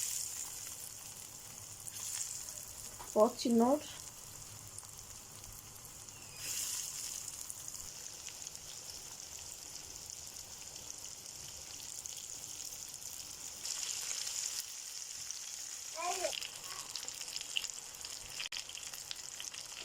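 Breaded brains frying in hot oil in a pan give a steady, soft sizzle throughout, with a brief spoken remark early on.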